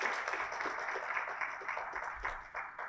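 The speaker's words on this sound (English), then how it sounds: "Well, a big applause to our panelists," Audience applause for the panelists at the close of a conference panel on gender-sensitive industrial policies, a steady, fairly distant wash of many hands clapping throughout, moderately quiet.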